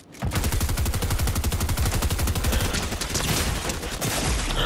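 Video game gunfire in Fortnite, a loud sustained burst of rapid automatic shots rattling steadily for several seconds with no speech over it.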